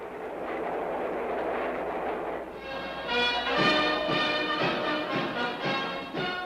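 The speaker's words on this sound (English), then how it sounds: "A train with several private cars carries the Emperor and his official party swiftly to Washington, D.C., the nation's capital." A train with several private cars carries an emperor's official party to Washington, D.C. in 1963, rumbling steadily and then breaking into a rhythmic clickety-clack of wheels over rail joints.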